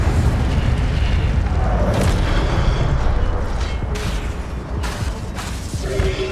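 An Incendio fire spell being cast in the Hogwarts Legacy video game, making a loud, continuous roaring rush broken by sharp bursts and booming swells.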